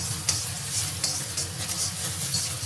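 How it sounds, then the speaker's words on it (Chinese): Beaten egg poured into a pan of hot oil and stir-fried, a steady close sizzle and hiss with brief scraping stirs, no voices. "1大勺油烧热，倒入鸡蛋液， 把鸡蛋炒熟"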